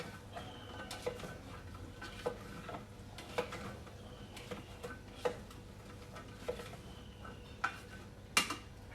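Tofu with minced pork sauce, green beans, long beans and tau kok being stirred in a pot, giving sparse, faint ticking scrapes and taps of a utensil against the pot at a slow, irregular rhythm over low background hum.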